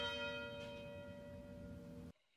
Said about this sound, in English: The University Tower chimes ring in another session of Ask the Professor